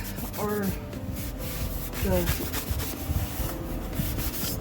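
Sandpaper rubbed back and forth over a mosaic tile piece, producing steady close scraping strokes with a few louder rasping passes, heard alone without talk.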